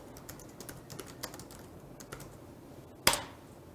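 Keys tapped on a computer keyboard while typing a search query into Naver, a run of light, fairly quiet clicks at an uneven pace, closing with one sharper, louder click like a final Enter press.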